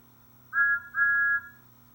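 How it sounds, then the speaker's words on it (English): A train engine's whistle gives two short, clear, high toots in quick succession over a quiet low background hum. "That sounds like a very good engine whistle."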